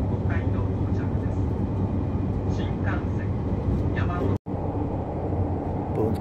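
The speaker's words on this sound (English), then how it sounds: "We're pulling into Tokyo Station." Steady loud rumble of a train interior as it pulls into Tokyo Station, a continuous low roar with brief squeals, unbroken except for one short dropout near the end.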